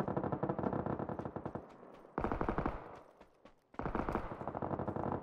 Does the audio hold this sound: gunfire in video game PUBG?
yes